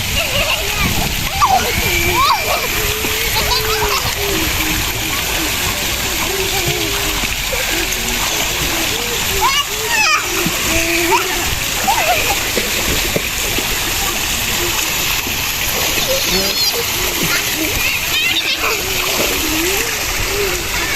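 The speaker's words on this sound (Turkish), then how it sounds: "Prensesim de yüzüyor" Continuous splashing and sloshing of water from people swimming, with children's voices and chatter mixed throughout against a busy outdoor background.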